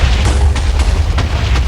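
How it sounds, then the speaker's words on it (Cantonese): Fire charges in the Minecraft game explode in loud, continuous booming blasts that rumble heavily and overlap with no pause. "啲燃燒彈係夠炸落我度嘅"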